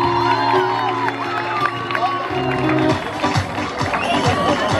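Students and families at a middle school graduation ceremony in Turkey cheer, whoop and shout in a loud crowd roar. The clamour fills the hall throughout, with babble and chatter mixed in.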